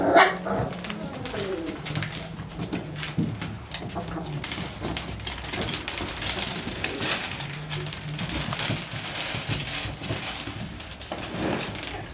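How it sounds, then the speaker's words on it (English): Dogs bark repeatedly in short, irregular bursts nearby, with birds cooing in the background and a person talking intermittently. "You're just barking like crazy."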